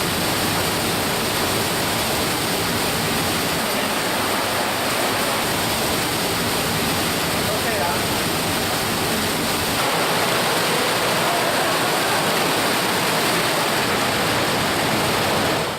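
An underground stream rushes and cascades through Speedwell Cavern, a loud, continuous broadband roar of falling and churning water, close and unbroken for the whole stretch.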